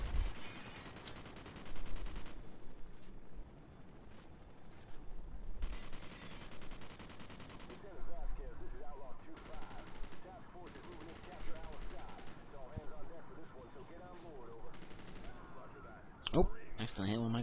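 Gunfire in Call of Duty 4: Modern Warfare comes in dense, rapid automatic bursts separated by brief pauses, with a louder shot or impact near the end and a voice talking over it at times.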